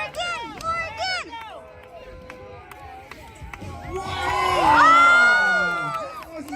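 A county fair crowd, children among them, shouts and cheers for a stunt rider, with rhythmic chanting that swells into a loud, sustained roar of excited voices.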